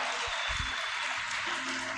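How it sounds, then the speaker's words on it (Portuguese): Applause from a congregation at a men's church congress, a steady wash of many hands clapping at moderate distance, continuous and fairly faint throughout. "Dê uma salva de palmas àquele que é digno"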